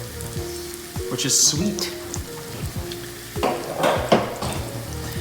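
Dried sweet red peppers fry in hot oil in a pan for pasta, giving a steady crackling sizzle with stirring scrapes, louder in bursts near the end, while a voice speaks briefly over it.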